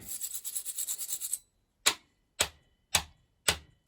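A small brush scrubbing sawdust out of a power tool switch: a quick burst of rapid scratchy bristle strokes, then four separate sharp brushing flicks spaced about half a second apart, close with silence between them.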